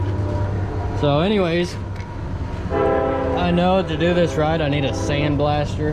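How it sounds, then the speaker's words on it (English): A train goes by nearby and sounds its horn in long, loud blasts over a constant rumble, while someone talks over the noise. "Sorry about the train"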